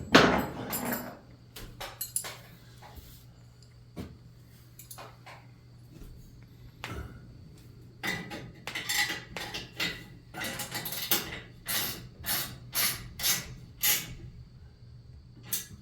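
Wrenches clank and rattle on bolts of a 1947 Crippen mill being restored, with a burst of sharp metal strikes at the start, a quieter stretch, then a busy run of close clinks and knocks.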